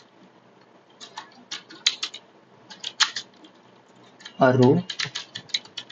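Computer keyboard keys clatter in quick uneven bursts at close range, sitting just under a voice that keeps talking through the typing.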